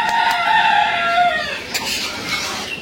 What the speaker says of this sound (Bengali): এই দুইটা মোরগ সারাদিন চিল্লাচিল্লি করবো